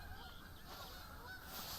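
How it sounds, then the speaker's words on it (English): Geese honking in the hunting video game theHunter: Call of the Wild, a faint, distant flock calling repeatedly over steady outdoor ambience for a couple of seconds. "I hear geese."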